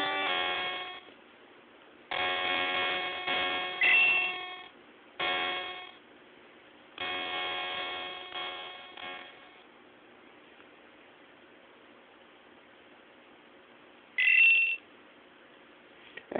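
Game Boy game sounds from an iPhone emulator: bursts of bright chiptune music and bleeps in several phrases, with gaps of near silence and a short high tone near the end, heard alone with no talking.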